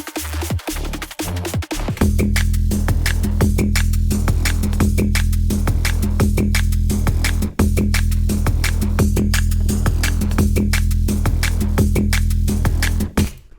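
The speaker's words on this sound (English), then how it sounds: "it's a really nice little funky subby groove" A deep, pulsing sub bass groove with punchy rhythmic hits, playing steadily and loud with a short break partway through.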